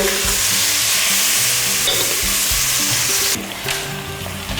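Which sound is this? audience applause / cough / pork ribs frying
pork ribs frying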